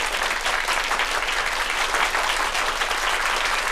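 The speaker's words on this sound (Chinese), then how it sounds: "同志们，为新当选的前委书记陈毅同志鼓掌" A hall full of people applauds a newly elected party secretary, a dense, steady clapping that fills the whole stretch without a break, loud and close.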